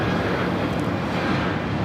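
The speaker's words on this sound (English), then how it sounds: "This is Volaris Flight 1711 taking off to Guadalajara on the A321neo" A Volaris Airbus A321neo on its takeoff roll at LAX, a steady loud roar of jet engines with wind noise, unbroken and sustained without any voices.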